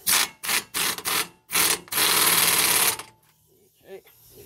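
An impact gun tightens car shock bolts in loud, rattling bursts, several short hits and then one longer run, before dropping to quiet workshop handling sounds.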